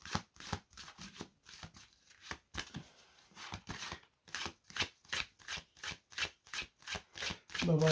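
A deck of tarot cards is shuffled close by in a steady series of crisp riffles and slaps, with a voice talking faintly in the background.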